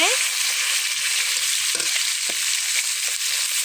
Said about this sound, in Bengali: এই যে মাছ ভাজতেছি, এখন মাছগুলো উল্টিয়ে দেব আর কচু দিয়ে ভাজা হবে।